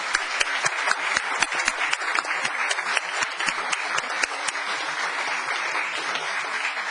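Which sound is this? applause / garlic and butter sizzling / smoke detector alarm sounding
applause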